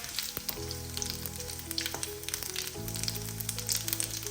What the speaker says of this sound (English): I'm going to add the cumin seeds. Fry those